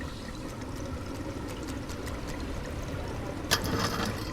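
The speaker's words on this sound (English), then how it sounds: "Is there water leaking from somewhere? Is there a burst pipe up here?" Water pours and trickles steadily from a burst pipe on a flooded city street in the drain-simulation game Drain Sim, a continuous low wash with a brighter splash surging near the end.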